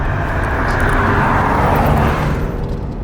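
A Ferrari Testarossa engine winds out from idle, its roar swelling loud and broad before easing off at the end, with no voices.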